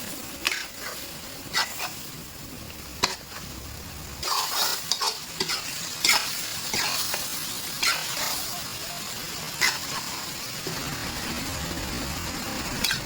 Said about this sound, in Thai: แล้วเราก็ผัดให้ทุกอย่างสุกดีเลยครับ